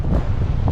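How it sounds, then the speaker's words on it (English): Strong wind in Denali National Park buffets the microphone in a dense, loud, rumbling roar for under a second. "Oh my, it's so windy."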